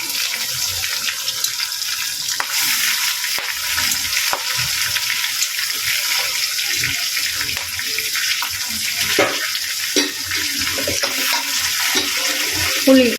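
Greens (keerai) frying in a pan with onion and tomato give off a steady sizzle, with occasional stirring clatter over the hiss.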